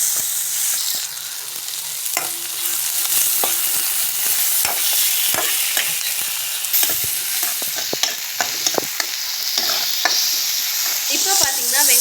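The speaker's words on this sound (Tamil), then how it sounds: "வெங்காயம் நல்லா கோல்டன் ப்ரௌன் ஆனதுக்கப்புறம் இதை நல்லா வறுத்து எடுத்துக்கலாம்" Onion and tomato sizzle loudly in oil in a pan for channa masala, with a steady frying hiss broken by repeated scraping taps of a spoon stirring through the whole stretch, no voices.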